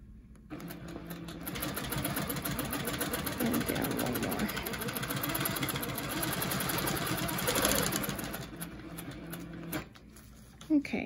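A Handi Quilter longarm quilting machine stitching along a leafy template, a rapid mechanical chatter that runs steadily for about nine seconds, close and fairly loud, with someone speaking over parts of it.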